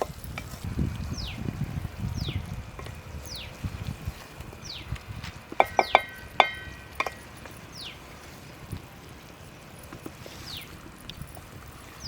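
Boiled egg pieces fry in a pan with onion, salt and chilli powder while a spatula stirs them, giving soft sizzling with scattered metallic scrapes and clinks against the pan.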